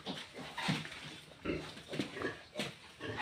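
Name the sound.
mother pig in labor grunting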